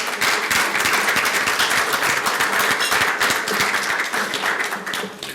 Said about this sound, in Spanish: Recibamos con un aplauso al licenciado Cano Vélez